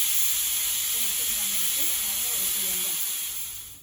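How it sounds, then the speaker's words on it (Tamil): A pressure cooker whistles while sambar rice cooks, a loud continuous steam hiss held for several seconds before trailing off, with faint muffled sounds beneath. "இங்கே பாருங்கள், இப்போது ஒரு விசில் வந்துடுச்சு பாருங்கள்"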